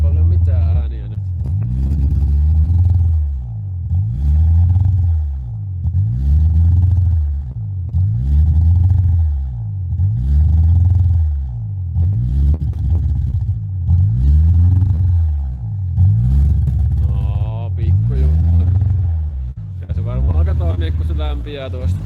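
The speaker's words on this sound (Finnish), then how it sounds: "nyt olisi tää uusi pakoputki toiminnassa. Huomattavasti pienemmät äänet on nyt kyllä." Fiat Punto engine fitted with a new 2.5-inch exhaust, turbocharged, revving in a steady repeated cycle of about a dozen rises and falls, loud and close, with a low rumbling tone and a brief higher note near the end.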